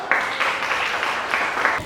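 Brief round of clapping from a classroom audience at a university business and marketing presentation, a steady patter of hands for under two seconds, fairly close and moderately loud.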